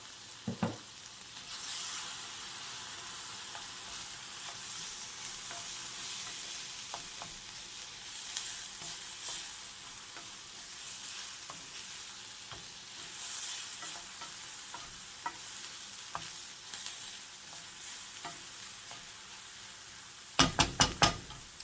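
Garlic sizzles steadily in a hot pan for a breakfast ham and cheese casserole, a continuous frying hiss with scattered spoon scrapes and stirring knocks, ending in a quick cluster of louder clatters near the close.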